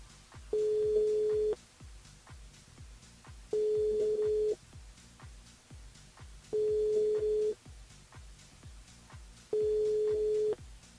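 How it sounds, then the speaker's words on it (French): A French telephone call rings out with a ringback tone: four evenly spaced steady beeps, each about a second long with gaps of two seconds, clear and moderately loud with faint background noise between. "Bon, ça sonne déjà."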